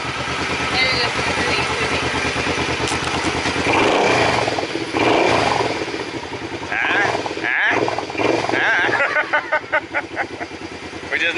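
A 2012 Suzuki Boulevard C50T motorcycle engine runs steadily and close by, with a few rougher revving surges near the end, while people talk over it.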